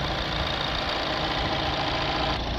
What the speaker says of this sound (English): Now I've got the engine running.